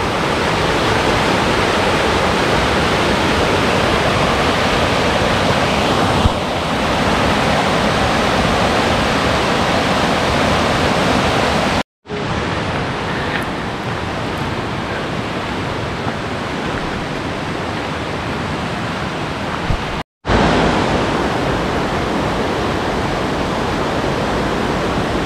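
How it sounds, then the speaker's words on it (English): Steady, full-bodied roar of a rushing river in the Smoky Mountains, continuous broadband water noise close by, with two brief dropouts partway through. "And the river just keeps going and going and going."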